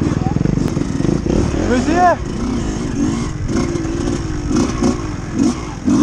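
A 2015 Kawasaki 250 KXF dirt bike revving hard on a muddy track, the engine's buzzing drone rising and falling continuously as throttle is worked, loud and close, with French voices talking over it.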